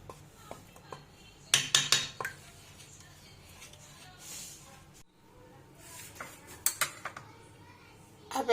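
Almonds, pistachios and cashews stirred into a dish of rabri falooda, giving bursts of spoon-on-bowl clinks and scraping in two busy stretches separated by quieter moments, close and fairly soft.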